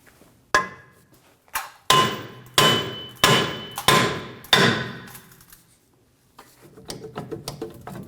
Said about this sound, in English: If your rotor is stuck on, you can go ahead and use a hammer right on the hub surface.